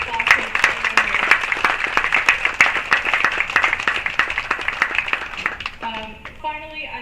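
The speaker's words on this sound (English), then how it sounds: "Give yourself a round of applause for the players" Crowd applause at a college tennis championship, many distinct hand claps in a quick irregular patter over several seconds, moderately close, with a voice starting to speak as the clapping tapers off.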